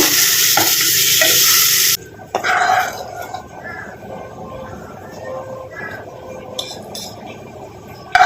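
Ghee-fried tempering poured over a mashed pumpkin dish, opening with a loud bright sizzle that stops abruptly, followed by quiet clinks of a spoon and bowl and faint stirring.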